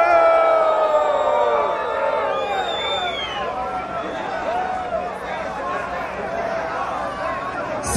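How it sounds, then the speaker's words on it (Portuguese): A large crowd at an extraordinary assembly of striking Federal District civil police sustains a loud, continuous jeer aimed at Governor Agnelo, many voices blending into a dense booing roar for the whole stretch. "Vamos já começar vaiando o governador Agnello."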